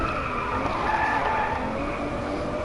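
Car tires skid and squeal in a sustained, steady smear as the car understeers through a corner, loud and continuous with engine noise beneath and no talk.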